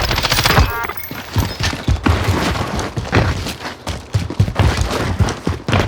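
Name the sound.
gunfire in a video game shooter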